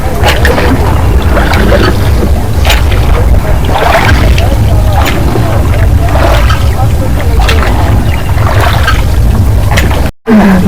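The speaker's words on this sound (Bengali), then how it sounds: "আমরা এখন পাত্রী লেকের বোটিং এ, বোটটা এসে ঠিক লেকের মাঝখানে প্রায় 5 মিনিট দাঁড়ালো, আবার ব্যাক করে যাচ্ছে।" Motorboat on Patratu lake, its engine a steady low rumble throughout with water wash and wind, while people talk in the background.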